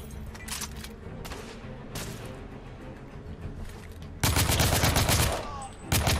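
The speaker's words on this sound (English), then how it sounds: "It is a machine gun." Automatic M85 machine gun fire in The Order: 1886 shooter game, starting as scattered distant shots and then breaking into loud, sustained, rapid bursts that stop briefly and resume, over a busy combat background.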